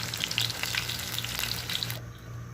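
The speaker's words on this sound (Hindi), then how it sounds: "अब ये मच्छी हो गया ऑलमोस्ट गोल्डन ब्राउन कलर, और ऑलमोस्ट फ्राई हो गया।" Fish pieces fry in hot oil for an Assamese-style fish curry, giving a loud, continuous close sizzle with popping crackles that drops off near the end. No one speaks.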